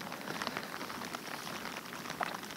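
Steady August rain falls in the open during a pike fishing trip, making a soft, even patter on surfaces with a few slightly louder drops; no one speaks.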